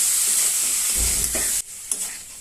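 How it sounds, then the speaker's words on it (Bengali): Spices stirred through food in a hot pan, a constant frying hiss with scraping stir strokes and a brief drop in the sizzle near the end. "এখন আমি এটাকে ভালো করে নেড়ে নেব।"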